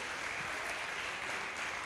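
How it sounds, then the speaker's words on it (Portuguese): A church congregation at a Sunday morning service claps together in praise of the Lord, a brief burst of dense, steady applause filling the room without talk. "Vamos dar uma salva de palmas para o Senhor?"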